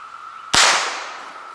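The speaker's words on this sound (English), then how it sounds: "this is actually the first shot through this rifle ever" A single loud, close rifle shot from a Pedersoli 1859 Sharps infantry rifle: a sharp blast followed by a decaying reverberant tail over a steady background hum.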